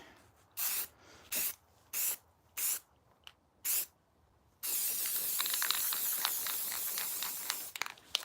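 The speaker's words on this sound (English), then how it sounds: "let's hit that baby with some paint" Aerosol spray paint coats a hand-carved morel mushroom, first in five short hissing bursts with pauses between them, then in one long steady close hiss lasting about three seconds.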